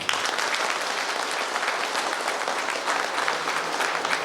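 Loud, sustained applause from a crowd at a community association celebration for Kempegowda Jayanti, dense clapping filling the room without pause.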